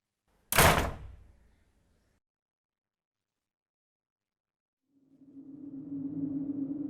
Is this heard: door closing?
yes